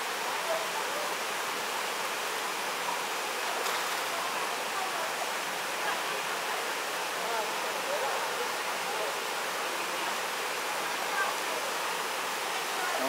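Rushing water from a waterfall among natural pools in the Serra da Canastra near São João Batista do Glória, a steady broadband roar holding even throughout with no breaks.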